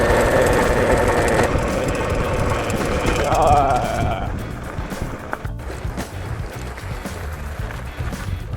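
A Movcan V30 Max electric off-road motorcycle rattles over a washboard dirt road, with steady loud wind and chassis vibration, an electric motor whine rising and falling, and bumpy jolts near the microphone.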